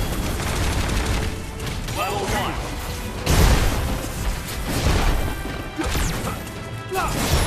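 Arthur's Super Scatter Shot attack in the Marvel vs Capcom Infinite fighting game sets off a dense, continuous barrage of crashing, explosive impacts and whacks, with a few heavier bursts standing out.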